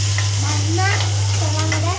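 Onion tipped into a hot pan sizzles under a strong steady hum, while voices talk over the frying throughout, fairly close and loud.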